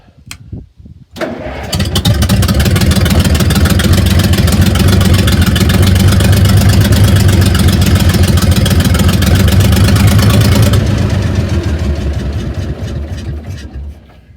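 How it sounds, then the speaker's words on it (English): A Link Belt LS40 crane engine cranks and catches, then roars loud and steady for about ten seconds as the machinery turns before easing down to a quieter idle. "We're going to turn the machinery here for you a little bit."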